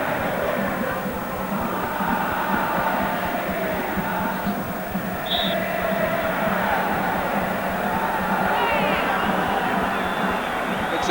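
A stadium crowd of about 70,000 at a football match roars in a dense, continuous wall of noise, with a few whistles rising briefly above the din.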